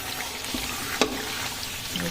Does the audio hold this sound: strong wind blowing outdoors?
no